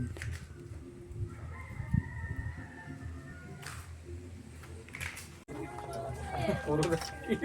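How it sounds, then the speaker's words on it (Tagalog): A native chicken crows outdoors at moderate distance, its drawn-out, harmonic call rising toward the end. People talk nearby throughout, and other rustling and background noises surround the crowing. "Manok na native."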